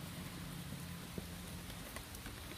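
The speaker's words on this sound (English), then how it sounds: "So it's raining, a lot of water coming down at the moment" Heavy rain pours steadily outdoors as a dense, even hiss of falling water, with a few scattered louder drops and no voices.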